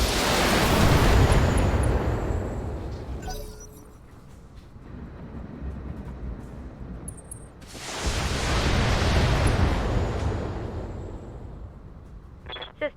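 Mech weapons firing and explosions in Battletech urban warfare, two long roaring blasts of broadband rumble separated by a quieter lull with crackling debris, loud and close, ending in a sharp burst.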